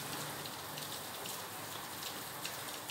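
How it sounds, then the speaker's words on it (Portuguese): Steady rain falling outside near a brown door, a soft, even hiss of drops with scattered faint patters, continuous and fairly quiet with no voices. "agora está molhada porque está chovendo"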